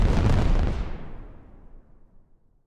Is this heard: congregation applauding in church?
no